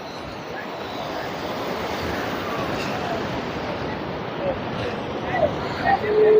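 Ocean waves roll in on a hot Goa beach as a steady, close wash of surf under wind buffeting the microphone, with faint crowd babble and a few louder gusts toward the end.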